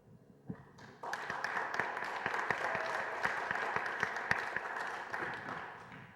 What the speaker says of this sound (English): So this is our chance to applaud you.